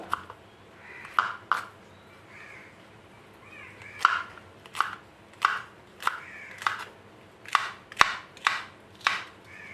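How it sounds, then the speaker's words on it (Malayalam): A knife cuts okra into rounds on a board in a steady series of about a dozen crisp, close chopping taps, evenly spaced with brief pauses between them. "ഇനി നമുക്ക് വെണ്ടയ്ക്ക ഒന്ന് അരിഞ്ഞെടുക്കാം"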